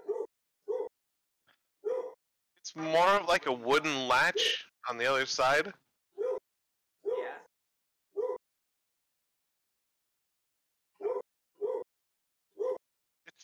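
A voice imitates a dog barking, belting out a run of loud, rapid woofs near the middle, surrounded by short bursts of casual speech before and after.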